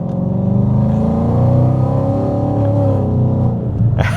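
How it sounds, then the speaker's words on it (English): A supercharged 2022 Ford Mustang Roush engine revs up close, its deep harmonic growl climbing steadily in pitch over a few seconds, loud and throaty, then settling. "So I will accelerate just a little bit so you can hear it."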